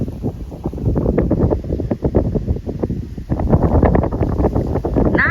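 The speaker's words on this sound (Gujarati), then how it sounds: "આજ પવન વાવાઝોડા જેવો પવન છે" Strong stormy wind buffets the microphone outdoors on a farm, gusting loudly and roughly throughout with rustling, while faint voices come and go underneath.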